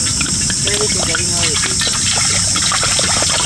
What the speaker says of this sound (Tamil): காய்கறி வேகிறதுக்கு தேவையான தண்ணி ஊற்றிடுங்க